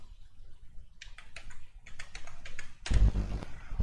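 Keys tapped on a computer keyboard while an OTP code is entered, a run of crisp, fairly close clicks in short bursts, ending with a heavier thump near the end.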